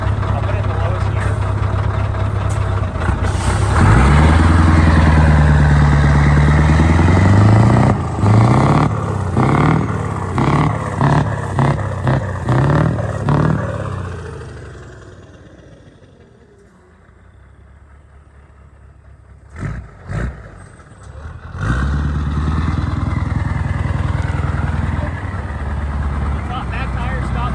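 A Scania truck with new larger injectors revs loudly in its lowest gear with the tires spinning, the engine note climbing and pulsing before easing off to a low idle, then revving again.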